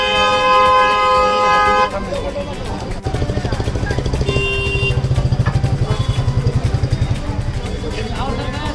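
On a busy Kolkata street, vehicle horns toot repeatedly, one long blaring honk and then shorter beeps, over loud rattling motorcycle and car engines close by, with voices talking in the mix.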